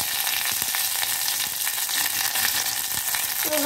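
Green mango pieces and curry leaves fry in hot oil in a pan for mango sambar, giving a loud, constant sizzle with some soft stirring scrapes close by.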